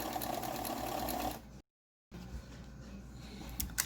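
A sewing machine runs a wide zigzag stitch over a pipe cleaner. It gives a steady close whir that stops briefly, then resumes.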